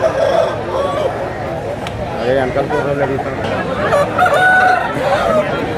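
Chickens cluck and a rooster crows at a poultry market in Anakapalli district, amid steady crowd chatter and voices nearby, the birds' calls rising repeatedly over the busy background.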